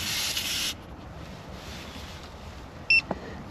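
Tire Minder TPMS monitor, fitted while installing sensors on a 2022 Solitude 390RK, gives a short electronic beep near the end, after a hiss and steady rubbing handling noise, with a faint second chirp just after.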